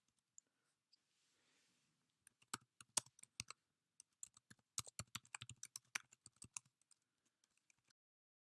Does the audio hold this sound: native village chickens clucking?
no